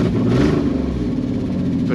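A 2001 Nissan Pathfinder R50 engine runs with a crudely repaired exhaust, giving a steady low rumbling idle with a lumpy, slightly uneven beat, close and continuous throughout.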